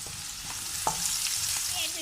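Chopped onion with salt and chili frying in a pan while a spoon stirs it, a steady close sizzle broken by a few soft scraping clicks, no talk.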